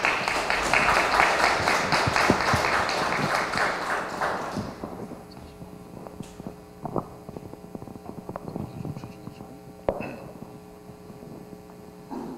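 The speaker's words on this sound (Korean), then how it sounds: "장관님을 박수로 맞이해 주시기 바랍니다." An audience at a forum applauds to welcome a former agriculture minister as lecturer, a dense burst of clapping that fades after about five seconds, followed by a low steady hum and scattered knocks.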